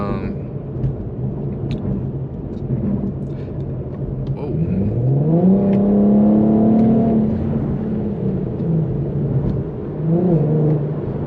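A tuned Infiniti Q50 running on E85 cruises down a street at night. A steady engine and road rumble swells midway into a rising engine note that holds before settling back.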